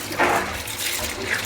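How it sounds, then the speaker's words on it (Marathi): Lentils are rinsed in water, with a brief close splash and swish of liquid and grains that comes in a couple of soft surges. "डाळ 2 पाण्याने व्यवस्थित डाळ धुवून घ्यायची व्यवस्थित"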